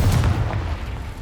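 A Confringo fire spell detonating in the game Hogwarts Legacy, a single deep, close booming blast that rumbles and fades over about a second.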